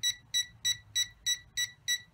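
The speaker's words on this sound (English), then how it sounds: "press it again, gives you a couple of beeps, or 3 beeps that was" Seven short electronic beeps from a JXD 509G drone controller in a steady, evenly spaced rhythm, clear and close over a faint low hum.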